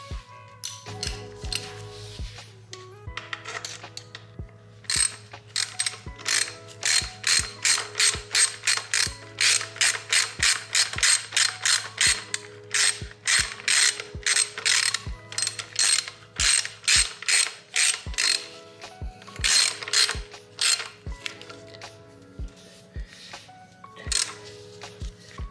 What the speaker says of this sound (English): so it's getting a little tough, so I'm gonna grab my socket